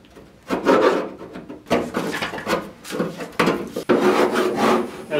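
Metal rolling doors being sanded to remove surface rust, giving loud, close, repeated rasping strokes in uneven bursts with short pauses between them.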